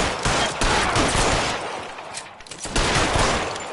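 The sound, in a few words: gunfire in video game L.A. Noire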